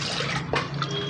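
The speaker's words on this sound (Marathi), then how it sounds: "आपल्याला हवं तेवढं पाणी घालायचं त्याच्यामध्ये" Water poured into cooked urad dal in a pan for ghute, a short splashing gurgle and drip, close and moderately quiet, no talk.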